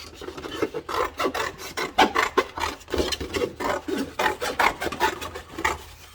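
A piece for a 3D landscape artwork is hand-cut in quick, rhythmic rasping strokes, close and fairly loud, with no talking.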